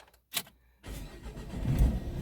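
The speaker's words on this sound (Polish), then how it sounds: "wkładam kartę, ciskam sprzęgło czy tam hamulec, odpalam" A Renault Grand Scenic 2 with the 1.5 dCi diesel engine and a faulty battery clamp: a short click, a brief pause, then the engine cranks and catches into a steady, close idle.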